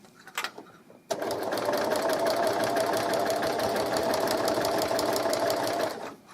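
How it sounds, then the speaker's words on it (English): A sewing machine runs steadily for about five seconds, stitching back and forth to secure the start of a seam on a simple double-sided baby blanket. The whirring hum is loud and close, with a few soft handling knocks just before it starts. "go back for a few stitches and then go forward just to secure that beginning"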